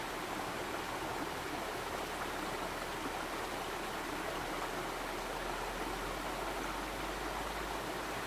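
A forest stream flowing steadily, a dense, continuous rush of water that stays even throughout with no voices or other sounds.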